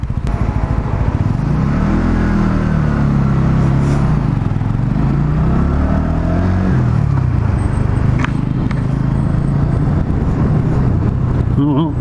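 A Sinnis Outlaw 125 motorcycle ridden around the streets of Caerphilly, Wales, its small engine droning loud and close with wind buffeting and gentle rises and falls in pitch as the throttle changes.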